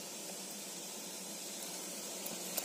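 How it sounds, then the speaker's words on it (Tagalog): Water boiling in a cooking pot for a fish tinola soup, a steady soft bubbling hiss with a few faint pops, close and fairly quiet, no talking. "kumukulo na po yung ating saingan"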